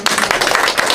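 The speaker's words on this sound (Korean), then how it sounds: "한민호 국장님께 박수를 제가 드립니다" A room claps for guest speaker Han Min-ho, a dense, even patter of many hands filling the whole moment with no talk over it.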